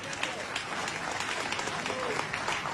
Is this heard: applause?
yes